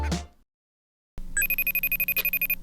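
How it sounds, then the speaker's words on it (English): A phone rings with an incoming call during a Riders Republic session: a regular pulsing electronic ring with steady tones, loud and close, following a brief burst of sound and a pause of silence. "Phone call from Mitch coming in."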